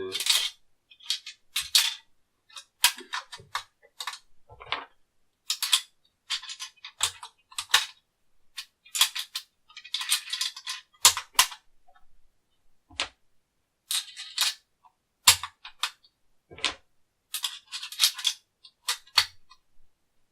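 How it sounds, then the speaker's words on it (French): Marlin XL7 rifle in .222 Rem, its bolt action cycled repeatedly to eject rounds, giving close, sharp metallic clicks and clacks in short bursts separated by quiet gaps. "je vais vous montrer au niveau de l'éjection comment ça se passe"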